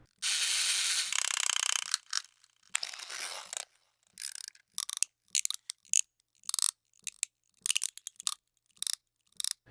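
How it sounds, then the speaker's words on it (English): A toy clockwork mechanism from a sample library: a short burst of dense winding rasp, then sparse, irregular dry clicks and ratcheting ticks separated by silence, close and crisp. "Let's listen to the toy clockwork here."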